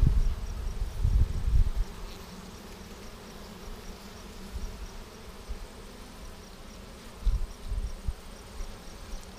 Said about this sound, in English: Decent population of bees here.